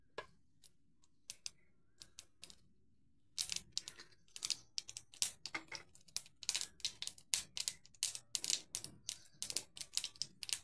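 Mustard seeds tossed into hot oil for shingolya, spluttering and popping in a quiet run of sharp crackles that start sparse, then build into dense, irregular bursts up close with no talk.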